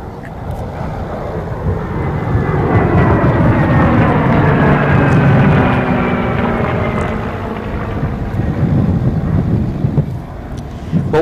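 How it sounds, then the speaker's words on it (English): P-51 Mustang with its Rolls-Royce Merlin engine flying past together with an A-10 Warthog in a heritage flight, a loud swelling roar that peaks and then fades with Doppler-shifting engine tones and wind buffeting. "We're going to hear two sounds, that of a P-51 Rolls-Royce Merlin and the A-10."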